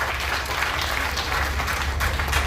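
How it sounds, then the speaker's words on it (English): Steady applause from a crowd gathered at a ribbon cutting for the Aspire Center, continuous clapping filling the whole moment at an even, full level. "Give another round of applause for Darnell and Morris"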